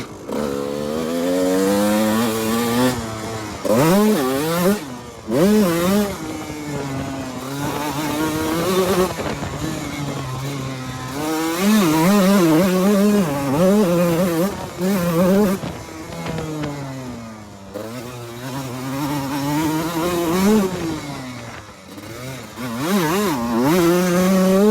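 A Kawasaki KX125 two-stroke dirt bike with a suspected power valve fault loops around a small corner track, its engine revving and dropping repeatedly as it nears and pulls away, loud and raspy with no talk.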